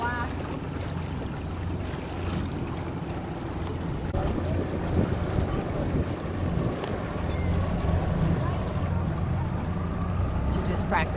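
A small sailboat under way in steady wind, with continuous wind rush and water noise on the hull throughout; voices talk faintly underneath.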